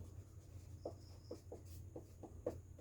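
Pen scratching on paper during handwritten notes for an ICT class lesson, a few quiet separate strokes at close range in a hushed room.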